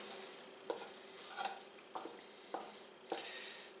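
Nutmeg is stirred into Duchess potato mash off the heat, with several soft scraping strokes of a spoon against the pot, quiet and close, each stroke distinct against a hushed background.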